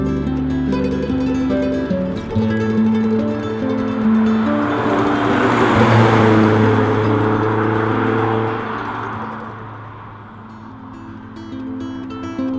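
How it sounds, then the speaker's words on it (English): An Alfa Romeo GTV's twin cam engine on Weber carburettors pulls hard up a country road, a loud, full-throated roar that swells in pitch and volume, then eases off toward the end. "It has lots of torque everywhere and a fantastic noise assaulting the countryside behind you as the GTV fires you up the road"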